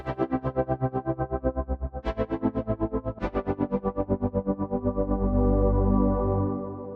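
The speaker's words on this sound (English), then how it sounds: "if I play a few notes and open my mod wheel there, you can hear we get that nice tremolo sound there" Sustained synth chords from vintage-style synth keys, with tremolo brought in by the mod wheel, pulse with a fast, even wobble, a few notes shifting, then the tone swells and smooths toward the end.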